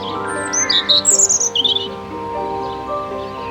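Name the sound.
robin calling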